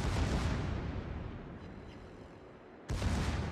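Warship secondary guns fire in World of Warships aboard the battleship Massachusetts, a dense rumbling barrage of booms that eases off before a loud fresh burst near the end.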